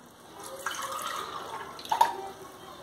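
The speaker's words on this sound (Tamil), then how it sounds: "கூடவே மறுபடியும் கொஞ்சம் தண்ணி ஊற்றலாம்." Water poured into a peanut-thickened plain gravy in a cooking pan, a steady close splash and trickle for a couple of seconds with a brief louder burst near the end, heard alone.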